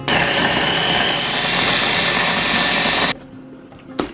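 Blender grinding alcapurria dough in a small batch, a loud, steady motorized whir for about three seconds, then stopping abruptly, leaving a brief clatter of the jar.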